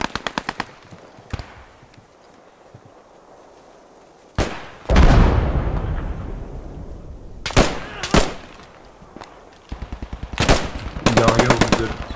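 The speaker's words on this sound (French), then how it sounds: "La Browning est toujours active à l'ouest du point." Bursts of rapid automatic fire from a Browning machine gun in the game Post Scriptum come in several separate volleys with quiet gaps between them, sharp and fairly close, with faint background ambience.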